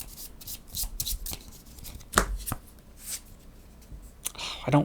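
A playing card drawn and handled during a Legendary Bond 007 deck-building board game, soft brief shuffling and sliding rustles close by, quiet and intermittent.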